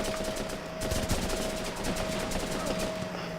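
Gunfire in the Running With Rifles game crackles as rapid automatic bursts and scattered shots over a steady background hum, fairly close and without talk.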